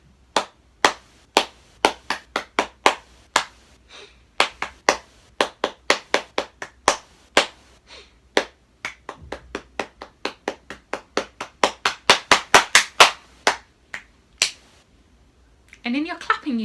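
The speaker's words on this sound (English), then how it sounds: "I'm just going to clap it through." A single person claps out the rhythm of Handel's Bourrée as a sight-reading exercise, giving crisp, close hand claps in an uneven, phrased pattern with short pauses. A brief burst of other sound comes at the very end.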